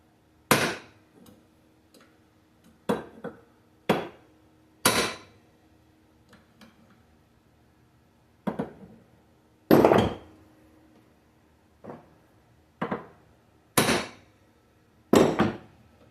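A hammer gives light, sharp taps to seat a distributor part on a K1500 pickup's 350 engine, a dozen or so separate strikes at uneven intervals, close and crisp in a quiet space.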